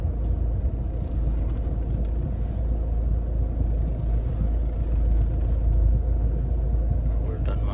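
Low, steady idling rumble of a car easing into a tight parking spot beside a pillar, continuous and close, with a voice speaking over it.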